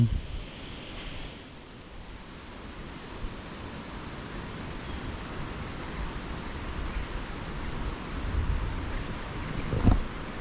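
Wind blowing across a forest campsite: a steady, broad rush of air buffeting the microphone, moderately loud throughout, with a slight swell near the end and no talking.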